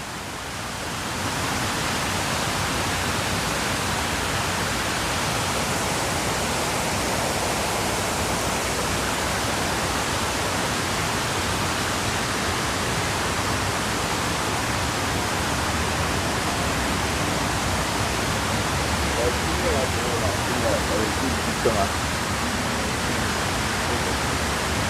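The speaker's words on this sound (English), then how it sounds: "So we can just see the cascading waterfall right there of the Northern Memorial Pool." The 9/11 North Memorial Pool waterfall in Manhattan cascades in a steady, dense, broadband rushing roar that holds evenly throughout with no breaks, loud and unbroken, with no voices standing out.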